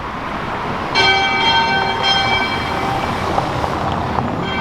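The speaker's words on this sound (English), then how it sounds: "And that is the church bells." Church bells in Vilnius Old Town ring out in the morning with bright, sustained tones, two strikes close together, over a dense, noisy street background.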